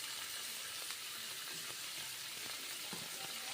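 Shrimp with salt and turmeric frying lightly in a pan, a steady close sizzle and hiss with small pops, continuous throughout without any voices.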